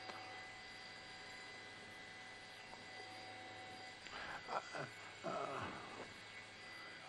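Distant drone of firefighting tanker planes hums steadily over a wildfire near Castaic, north of Los Angeles, with a louder rushing swell of nearby activity near the end; no talking.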